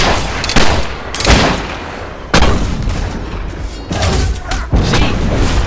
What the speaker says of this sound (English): Now the rebel is firing at us.